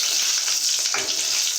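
Garlic and chillies sizzle in hot oil with mustard seeds, a steady bright crackling hiss running unbroken from start to finish, close and loud with no voices.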